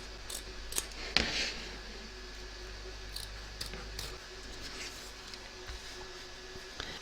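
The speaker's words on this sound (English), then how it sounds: "trim around the edge of the stitch line, taking care of course not to cut your stitches." Scissors trim fabric around an embroidery stitch line, making a handful of faint, separate snips spread irregularly across a quiet room.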